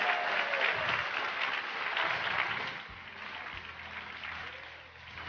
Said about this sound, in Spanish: Vamos, aplausos para Robert que está llegando